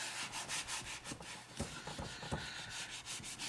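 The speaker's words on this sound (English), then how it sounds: "rub some of this out" An eraser rubs out writing on a board in quick back-and-forth strokes, a close, scratchy swishing that repeats steadily for a few seconds.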